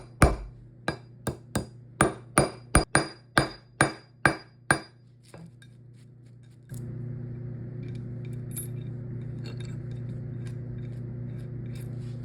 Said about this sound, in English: start hammering onto the top of the bolt